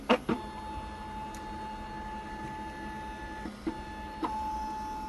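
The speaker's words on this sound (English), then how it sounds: "we're going to cut the key. Now it's reading all the cuts." Electronic key cutting machine tracing and reading the cuts of a Mini Cooper key, heard as a steady whirring motor drone with a faint tone and a few short mechanical clicks and clunks, close and alone.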